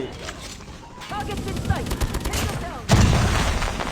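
Gunfire in Call of Duty Mobile, with bursts of automatic shots crackling over game sounds while people talk throughout, ending in a louder burst of fire.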